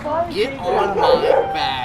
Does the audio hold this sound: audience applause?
no